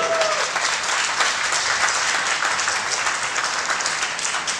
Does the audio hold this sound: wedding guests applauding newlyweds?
yes